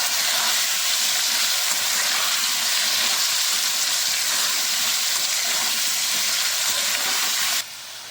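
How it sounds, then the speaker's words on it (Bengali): Potatoes fry in hot oil in a pan, a loud, even, close-up sizzling hiss that holds steady for several seconds, then drops away abruptly near the end. "আলুটা আমার ভাজা হয়ে গেছে আমি একটু লাল করে ভেজে নিয়েছি"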